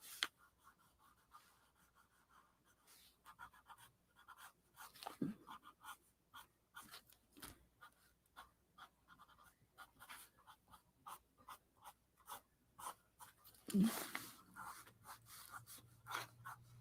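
A colored pencil works across paper, sketching swirly strands of hair in a Christmas coloring page: a steady run of soft, dry scratchy strokes in quick repeated bursts, close and quiet, with no talking.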